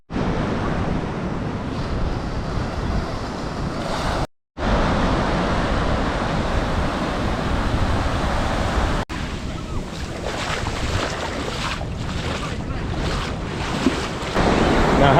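Surf washes continuously onto a beach in Tenerife, a loud, broad rush of breaking waves mixed with heavy wind buffeting the microphone, with one brief dropout partway through.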